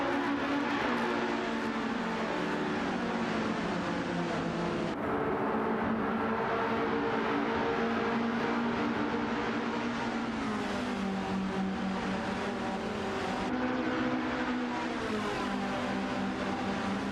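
Race cars, including an Estonia 21 and a Melkus, drone continuously through an AI racing video game, their engine notes rising and dropping as they shift, with no voices over the steady, fairly distant roar.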